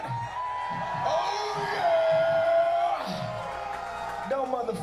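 A hardcore punk concert crowd at Elevation 27 in Virginia Beach whoops, yells and screams together in a sustained roar, with someone shouting over the mic above the noise and a ringing tone running through it.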